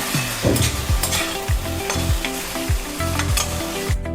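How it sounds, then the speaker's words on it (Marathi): Spiced brinjal bharit is stirred and mixed in a hot pan, with a spoon scraping in a regular rhythm of about eight strokes over a continuous sizzle, close and fairly loud, with no talk. "सर्व असं व्यवस्थित आपण मिक्स करून घेऊ आपले सर्व मसाले लागले पाहिजेत त्याला"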